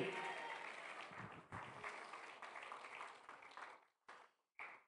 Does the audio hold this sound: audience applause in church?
yes